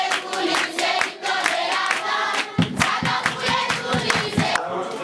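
Congregation packed into a small hut in Haiti clapping hands passionately during worship, a dense run of rhythmic claps from many people, close and loud with voices mixed in.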